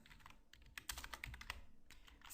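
Rapid keystrokes on a computer keyboard while writing CSS for a website layout, an uneven run of close, crisp clicks with short pauses and a faster burst at the end.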